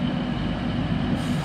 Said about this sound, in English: There you go, Transpennine Express.